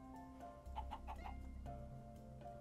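Chicken in Minecraft making a series of short clucks in a quick pecking rhythm, moderately close, heard over a steady low game background hum with no talking.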